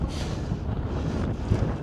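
Strong wind buffets the microphone on the summit of Skiddaw in continuous low roar, gusting slightly throughout.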